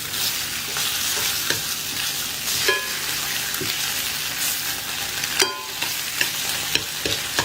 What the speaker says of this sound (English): I'm going to flip my bologna over